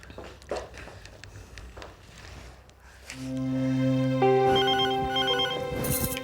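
A phone call placed to a relative, with a ringback tone pulsing in repeated rings after a few seconds of quiet indoor shuffling and footsteps.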